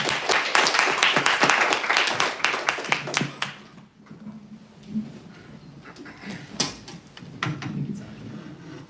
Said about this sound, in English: So let's hear a huge round of applause.